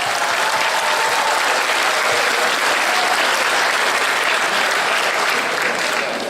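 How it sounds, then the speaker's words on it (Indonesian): A large audience applauds loudly and continuously at a public appreciation event, honoring grandmothers over 60, a dense, even roar of clapping that holds steady from start to finish. "Tepuk tangan buat nenek-nenek di atas 60 tahun."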